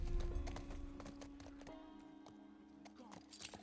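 Horse hooves clip-clopping at a steady rhythm while riding in The Last of Us video game, heard against a sustained tonal game background, moderately close and fairly quiet.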